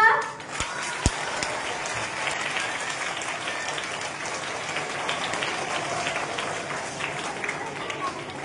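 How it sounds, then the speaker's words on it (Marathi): A large school audience at a Marathi Day celebration claps steadily, a sustained wash of applause that begins after a brief voice and a couple of sharp knocks. "आपण जोराने एकदा सगळ्यांसाठी टाळी वाजवू का?"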